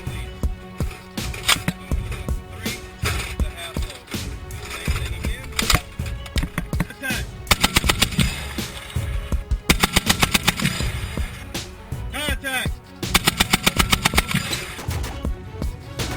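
An M2 heavy machine gun fires repeated loud bursts of rapid, evenly spaced shots, with short gaps between strings of fire.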